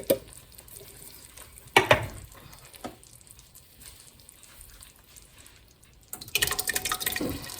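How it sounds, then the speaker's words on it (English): Two cans of crushed tomatoes go into a pot of reduced sauce base, giving a few thick wet plops and splatters followed by a louder, sustained pouring and sizzling gush near the end. "I'm gonna toss in the crushed tomatoes."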